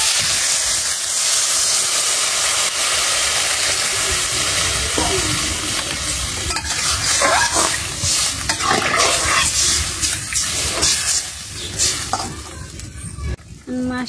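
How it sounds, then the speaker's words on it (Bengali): Water poured into a vegetable curry frying with spices in a pan, a loud continuous sizzle and hiss with steam surging and stirring scrapes, fading into a bubbling simmer. "তরকারি কষানো হয়ে গেছে গা, আমি জল দিয়ে দেবো।"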